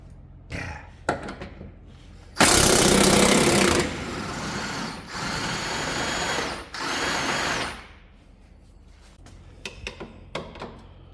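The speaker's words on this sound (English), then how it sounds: "Let me get that last bolt out." Power tool spinning out the last bolt on a Chevy HHR front suspension, a loud close whirring burst lasting several seconds with brief pauses, framed by lighter clanks and handling noises.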